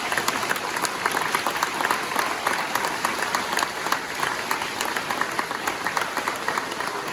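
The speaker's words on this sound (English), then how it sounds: "if we could give the Boy Scouts one more round of applause" A school assembly audience applauds the Boy Scouts at a Veterans Day event, dense steady clapping from many hands filling the room for the whole stretch.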